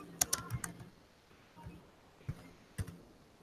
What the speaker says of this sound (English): Just here, I'm gonna type it in here.